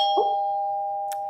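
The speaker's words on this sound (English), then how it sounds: "I said, don't ring the doorbell, please" A doorbell chimes at home: a two-tone ding-dong rings out clearly near the start, followed by a long sustained ringing tone that fades slowly, with no talking over it.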